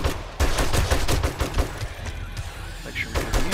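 An M60 machine gun in the console version of 7 Days to Die rattles off a loud, rapid stream of evenly spaced shots, then tapers into sparser bursts beneath a voice.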